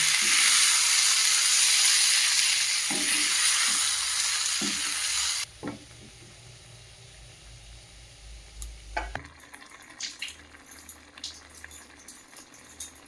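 Loud sizzling of spices tempering in hot oil for dal khichdi for several seconds, then the hiss drops away, leaving clinks and stirring sounds.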